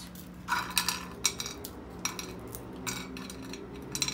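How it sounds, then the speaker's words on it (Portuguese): A knife chopping cornstarch biscuits into small pieces on a kitchen surface makes quiet, irregular crisp taps and clicks, with no talk. "Agora eu vou picar a bolacha de maisena."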